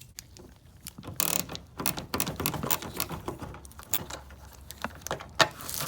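Ratchet loosening an 8mm bolt on the passenger-side front fender of a 2011–2014 Toyota Sienna, a close run of quick mechanical clicks and metallic rattles of varying loudness, with no talk.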